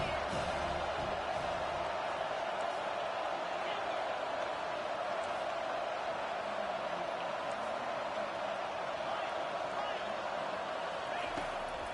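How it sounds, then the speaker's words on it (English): A college football stadium crowd at an Ole Miss versus Penn State game roars in a steady, dense wall of noise on a third-down defensive stand, continuous and loud with a commentator's voice underneath. "Decibels rising as the crowd gets behind this defense on third down"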